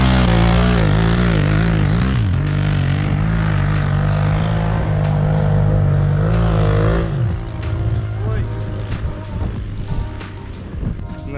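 An old Honda Africa Twin 750 motorcycle climbs a steep sand-covered hill, its exhaust loud and close, rising and falling in revs for several seconds before dropping off into rougher, uneven engine noise.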